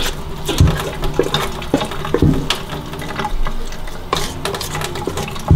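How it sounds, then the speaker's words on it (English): Very hot tap water runs and splashes as it is added a little at a time to dough, a close, uneven trickle broken by sharp knocks and clinks of handling. "we get the water very hot and add a little bit at a time to make a soft dough ball"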